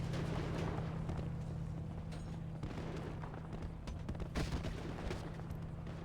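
Gunfire in the GTA roleplay game Familie City, a dense run of sharp shots and booms over a constant low hum, steady and fairly loud throughout a big gang fight.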